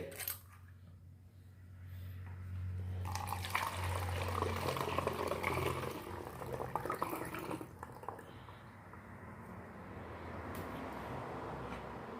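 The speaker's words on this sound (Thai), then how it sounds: "จากนั้นเราก็เท เครื่องดื่มชูกำลังนะครับหนึ่งขวดนะครับ ลงไปเลย" A bottle of energy drink pours into a liquid mixture, with a steady gurgling stream that swells over several seconds and then settles into a softer fizzing wash.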